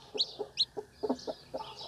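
Several high peeps from a newly hatched white Aseel chick ring out in quick succession close by, mixed with soft low clucking from the nearby hen and no speech.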